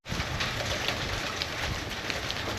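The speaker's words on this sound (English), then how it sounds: "At least it's not rain, that's hail. It's hailing." Hail falling steadily outdoors during a stormy turn in the weather while a Ram truck's transmission is being worked on, a dense, continuous hiss and patter of pellets with no break.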